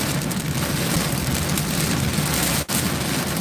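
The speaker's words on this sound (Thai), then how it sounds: "พูดแทนกับเสียงฝนเนี่ย มันขนาดไหนเนี่ย" Heavy rain pours in a steady, dense broadband hiss that holds without a break, with one very brief dip near the end, and no voices over it.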